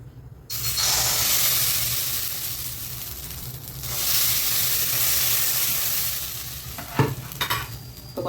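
Rava uthappam batter hisses and sizzles loudly as it hits a hot pan, a steady broadband frying crackle that swells and fades, with a few sharp utensil clicks near the end.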